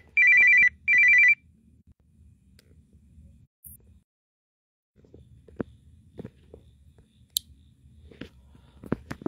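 A telephone rings with two loud electronic bursts close by at the start, then stops, leaving quiet room tone with occasional clicks and soft handling noises.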